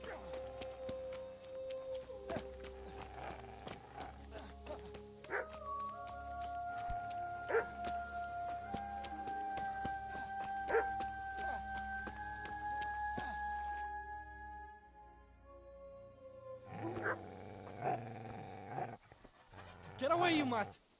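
A dog barks repeatedly in the Kingdom Come Deliverance video game, with sharp yips and barks at close range over a background musical melody, and a voice speaks near the end.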